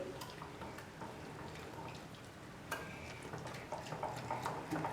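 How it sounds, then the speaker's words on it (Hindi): Water poured and stirred into beetroot rava dosa batter to thin it, a soft steady liquid swish with light drips and spoon scrapes, close and fairly quiet, with no talking. "फिर हम इसमें ढेर सारा पानी डालेंगे।"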